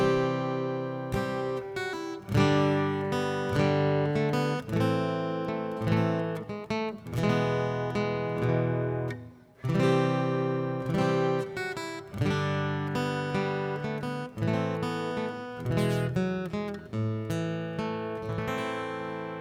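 Guitar picked with a plectrum plays the B section of the carol What Child Is This (Greensleeves), a steady run of clear, ringing single notes and chords heard alone at close range, with one brief dip midway.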